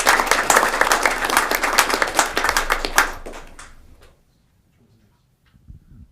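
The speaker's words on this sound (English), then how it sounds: "How about a round of applause for Hamel Turkey 2025?" A round of applause sounds at a Hamilton city council meeting: loud, dense clapping from a roomful of people for about three seconds, then it thins out and fades to near silence.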